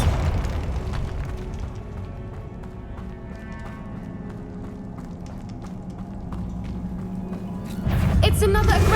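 A Bombarda spell explosion in the Hogwarts Legacy video game: a steady rumbling game soundscape builds into a loud, heavy boom near the end, with voices talking.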